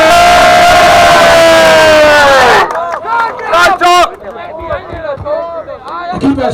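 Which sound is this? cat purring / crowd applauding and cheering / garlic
crowd applauding and cheering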